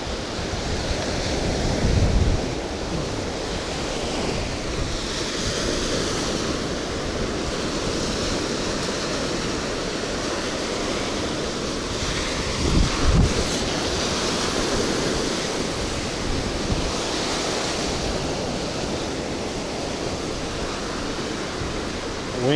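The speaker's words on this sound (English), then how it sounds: "The wind is really catching that line right now." Steady wind roars at a Florida coastal fishing spot, a continuous broadband rush with surf-like gusts buffeting the microphone throughout, and no voices heard.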